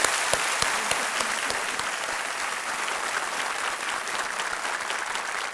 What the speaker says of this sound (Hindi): एक बार फिर तालियां बज जाएं इनके लिए अनामिका जी